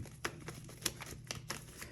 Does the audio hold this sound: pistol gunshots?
no